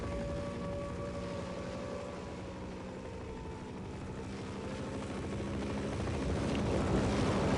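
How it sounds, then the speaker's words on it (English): Helicopter in the Half-Life video game, a continuous rotor and engine drone at a moderate, fairly distant level that swells slightly louder toward the end, with no voices over it. "Maybe if I wait till the helicopter flies away."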